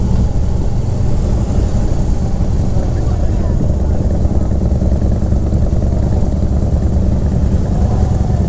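A Harley-Davidson V-twin motorcycle engine rumbles close by, heard as a loud, continuous low drone with a deep throb.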